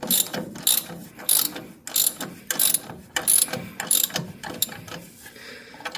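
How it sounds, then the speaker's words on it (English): A ratchet tightens a 7/16 bolt and nut on a ball joint during a 1965 Chevelle disc brake conversion. Repeated quick clicking strokes come up close and fairly loud, in steady bursts with short pauses between them. "So I'm going to tighten up the ball joint. Both of these are 7/16, the bolt and the nut."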